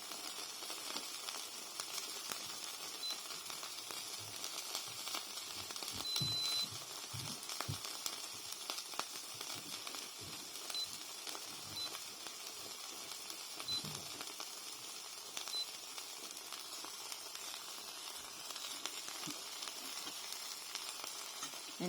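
Steady soft sizzling and faint crackling of stovetop mac and cheese cooking in a pot, continuous and fairly quiet, with occasional light stirring clicks and no talking.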